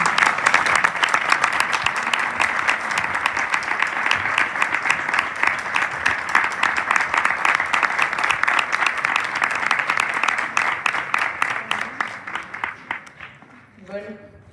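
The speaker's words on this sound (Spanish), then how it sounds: "un fuerte aplauso" A strong round of applause for a storyteller about to tell a tale, dense, loud clapping sustained for around twelve seconds, then thinning into scattered claps and fading out.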